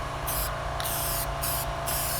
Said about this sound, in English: Try to spray up at an angle when you're doing this piece.